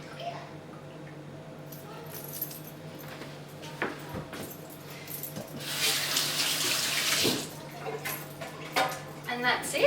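Almond milk squeezed by hand from a straining bag after blending in a Thermomix, liquid splashing and streaming into a bowl in a steady wet rush that swells midway, with a faint hum beneath.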